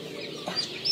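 Young Fayoumi chicks, five to six days old, at a busy poultry market, chirping and peeping in light, scattered calls over a steady crowded background hum.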